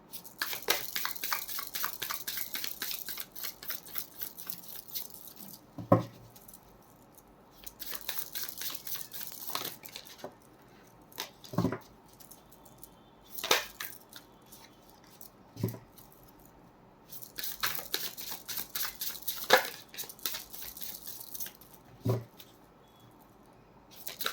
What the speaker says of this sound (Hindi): आप अपने मन में अपना सवाल सोच लें जब तक मैं कार्ड्स शफल कर रही हूँ।